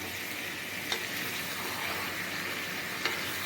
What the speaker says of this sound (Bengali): এবার মাটনটা এইভাবে নেড়ে কিছুক্ষণের জন্য আমি ঢেকে রাখবো